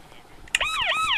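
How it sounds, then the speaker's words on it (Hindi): A Minecraft police car siren starts abruptly after a quiet stretch, wailing loud and close in sweeping rising and falling tones. "इसका साइरन क्यों बज रहा है, हमने उसे छू अब तक भी नहीं।"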